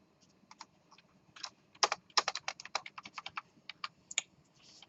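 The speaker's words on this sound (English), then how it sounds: "That's going to take a little bit of typing." Quick, light keystrokes on a computer keyboard patter in an irregular run, close and soft in a quiet room, with no talking.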